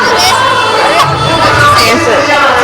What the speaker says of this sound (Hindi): तो लगातार देखिए लोगों की भीड़ जो है वो बढ़ रही है।